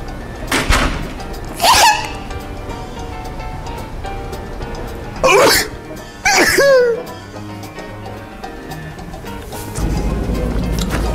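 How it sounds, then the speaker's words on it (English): A man sneezes in a room, first a single burst, then two more close together after a pause, loud and near, with a steady hum and door-like thumps around them. "Well, I'm going to sneeze anyway"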